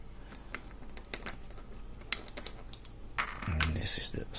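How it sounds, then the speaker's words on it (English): Keys for an Axa Clinch padlock being handled, a run of sharp metallic clicks and jingles at close range, growing busier and louder toward the end with no talk over them. "let's show the keys"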